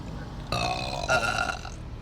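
A drawn-out burp rumbles for about a second and a half, loud and close, swelling midway before trailing off.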